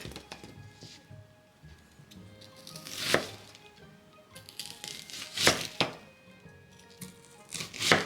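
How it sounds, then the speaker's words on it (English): A knife chopping an onion into pieces on a cutting board, a few sharp, close thunks spaced several seconds apart with quiet handling noise in between. "Cut the onion in half, then cut it into 6 equal pieces of the same size."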